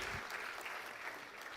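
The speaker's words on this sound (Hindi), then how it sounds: "एक बार जोरदार तालियां please." Applause from the audience at an Ayurveda career seminar, a brief, fairly soft burst of clapping from a crowd that holds steady for about a second and a half.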